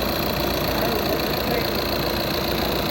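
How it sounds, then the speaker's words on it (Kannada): Steady, loud drone of a Tata Sierra's 1.5-litre Kryojet diesel engine running, heard close up with an even, continuous hum and faint knocking texture throughout. "ಆ್ಯಂಡ್ ಡೀಸೆಲ್ ಇಂಜಿನ್ ಈ ಥರ ಸೌಂಡ್ ಮಾಡುತ್ತೆ."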